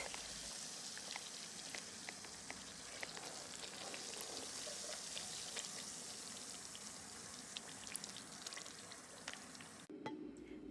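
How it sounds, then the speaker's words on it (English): On the first day of fermentation, homemade makgeolli gives a faint, continuous fizz of countless tiny popping bubbles, like soft rain or frying, heard close and alone. "On the first day of fermentation, you can hear the bubbles popping up"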